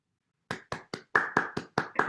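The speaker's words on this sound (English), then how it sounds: "I'm clapping on behalf of all the other participants" A single person claps alone after a conference talk, eight sharp close claps in an uneven rhythm following a moment of silence.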